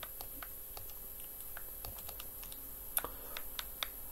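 Sharp computer clicks and key taps come in an irregular, quick patter at close range while playing Fallout: New Vegas, fairly faint overall, with one or two louder snaps and no talking.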